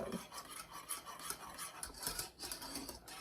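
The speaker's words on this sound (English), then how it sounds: "You're stirring this to keep this from sticking to the bottom of the pan." A spoon scrapes and rubs steadily through thickening chocolate pie filling in a pan, with continuous close rasping strokes and no talking.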